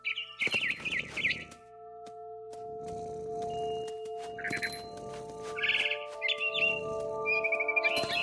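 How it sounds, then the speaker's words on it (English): A barn swallow in a video game gives bright, rapid chirps and twitters in short bursts over a steady synthetic drone, with soft rushing noise swelling between the calls. "It was a barn swallow going back to her nest."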